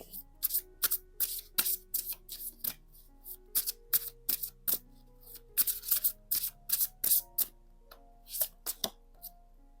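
Tarot cards being shuffled by hand in a rapid series of crisp, close riffles and slaps, arriving in uneven bursts with brief pauses between them.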